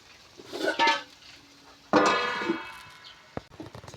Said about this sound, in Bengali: এটা সিদ্ধ হওয়ার জন্য আমি ঢাকনা ঢেকে দেবো।